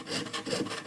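A hand saw rasps through wood, close up, in a brief stretch of back-and-forth strokes with a rough, scratchy texture and no voices.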